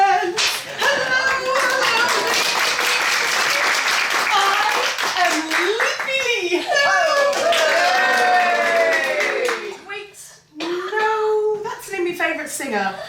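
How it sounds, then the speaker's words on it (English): An audience at an acting class final show claps along in a steady rhythmic beat while a voice sings over it, the clapping breaking off briefly near the end before resuming. "How about clapping and applauding along with her?"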